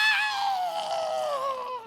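A person's voice imitates a creature's weird, throaty screech, one high, strained cry that holds steady and then slowly falls in pitch for about two seconds, close and loud with no other sound.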